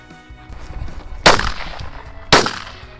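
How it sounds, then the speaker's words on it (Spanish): Two sharp, loud shotgun shots about a second apart, fired outdoors while hunting rabbits, each with a short decaying tail over a quiet field background. "El primer conejo se nos levanta y Juan José, en el segundo disparo, se hace con él"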